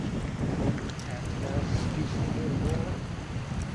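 Steady wind buffets a microphone at a harbor at night on the water, a constant broadband rush with low rumbling gusts that runs unbroken from start to end, with no clear voices over it.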